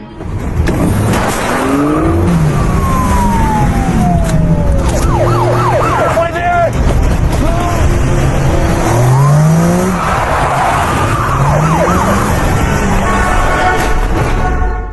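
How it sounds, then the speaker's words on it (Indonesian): Roaring vehicle engines and squealing tires in a motorcycle chase scene from an action film, with rising and falling engine whines, skids and a siren-like wail, loud and continuous without speech. "Sheriff langsung tancap gas mengejar si tersangka dengan menaiki sepeda motor."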